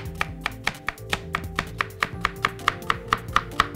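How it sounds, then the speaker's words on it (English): Steady rhythmic knife chops on a cutting board, about four per second, crisp and close, with a faint background hum and no talking. "Let's try chopping."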